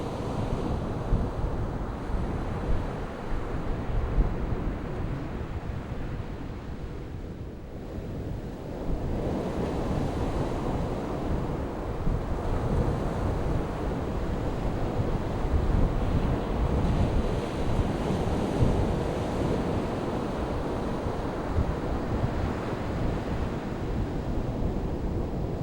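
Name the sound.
waves on Magnolia Beach, Texas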